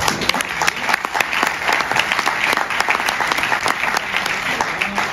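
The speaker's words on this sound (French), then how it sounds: "vous pouvez les applaudir encore une autre fois." Dense, sustained audience applause at an economic awards ceremony in Val d'Europe, many hands clapping steadily and fairly close throughout.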